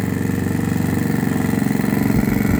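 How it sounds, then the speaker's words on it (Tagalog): A lawn mower runs steadily outdoors, a continuous close mid-pitched engine drone with a fast regular pulse throughout. "Nag-lawn mower na siya."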